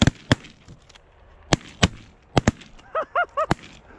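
A double barrel 10 gauge shotgun fires at geese in a rapid run of sharp, loud blasts, several in quick pairs, with goose honks mixed in between.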